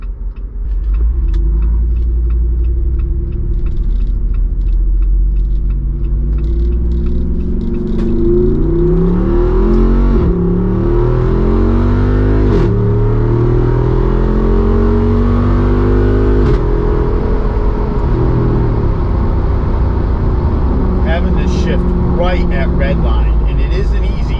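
A Jeep Wrangler 392 V8 with paddle-shift autostick accelerates hard, a loud continuous roar rising in pitch through gear changes and approaching the rev limiter, with a person talking over it.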